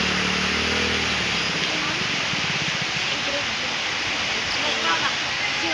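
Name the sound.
flooded Pawana river water flowing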